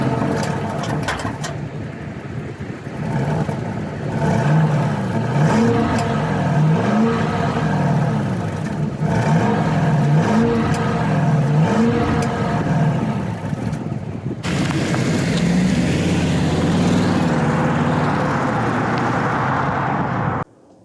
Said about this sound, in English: hopefully you can hear some of that sound from the engine.